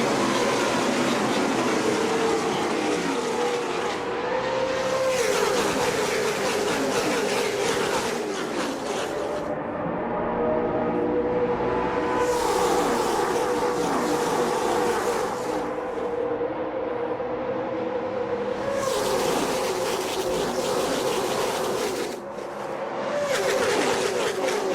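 NASCAR stock cars racing at speed on an oval: a continuous loud engine roar that rises and falls as packs of cars sweep past in waves, with their pitch bending as they go by.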